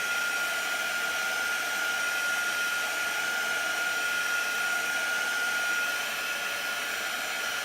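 A hair dryer blows in a steady, even whir throughout, drying chalk transfer paint on a tray, with no talking over it.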